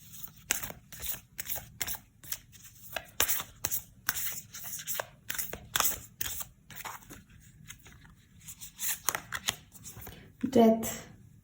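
Tarot cards are shuffled by hand in a run of quick, papery riffling bursts that repeat steadily at close range, ending with one louder, sharper rustle.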